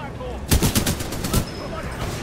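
Gunfire in the shooter game Titanfall 2: a quick rattling burst of about half a dozen shots lasting roughly a second, set over a steady windy game background.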